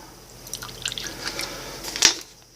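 Water trickling and dripping into a small dish in a spider enclosure, a few light splashes building to a brighter splash near the end, close and fairly quiet.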